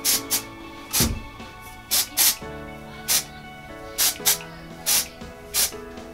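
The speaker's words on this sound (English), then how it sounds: "I'm gonna spray the other side now" Repeated short bursts of hairspray from an aerosol can, about a dozen quick hissing sprays at irregular intervals, close up.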